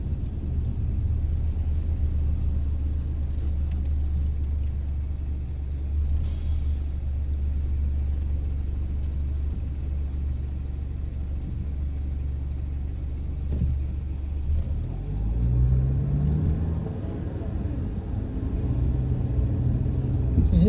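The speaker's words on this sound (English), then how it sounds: "And this is the 16 bus. That I'm riding in the back of." Inside a city bus, heard from the back seats, a steady low engine rumble and road noise continue throughout, with a brief rising engine whine near the end and no voices.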